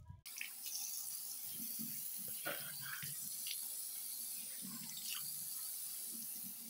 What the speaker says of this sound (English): So now I'm gonna go wash off my face.